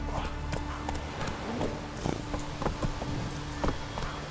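Roach, the horse in The Witcher 3 video game, gallops with steady clip-clop hoofbeats, a fast rhythmic run heard close and clear over a low ambient game backdrop.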